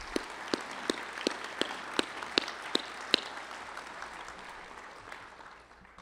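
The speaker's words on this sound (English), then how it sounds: "I'd like to give him a round of applause" Applause at a celebration honoring a coach: a crowd claps steadily with a few louder, sharper claps standing out. It fades gradually toward the end.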